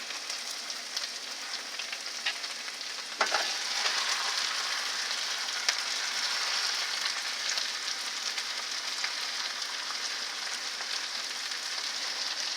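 Ground meat hits a hot pan already holding translucent onions for a deep dish pizza filling, and a steady bright sizzle starts with a sudden swell, then crackles on continuously up close with no speech.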